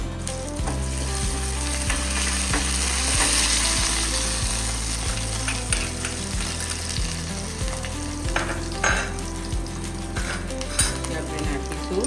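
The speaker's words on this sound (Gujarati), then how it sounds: "એના માટે પહેલાં આપણે કાપેલા આદુ મરચાં અને લસણ નાખીશું." Chopped ginger, chillies and garlic fry in hot oil for egg tikka, giving a steady loud sizzle throughout, with scattered clinks and scrapes of a utensil against the pan.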